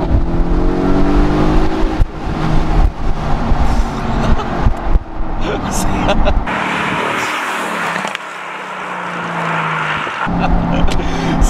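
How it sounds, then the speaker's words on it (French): Mercedes-AMG GT C V8 driven with the roof down, loud engine revving and surging with shifts and a brief drop near the end, wind noise and excited talk over it. "Ce bruit, il est incroyable! Le V8, quand il est libéré, c'est magnifique!"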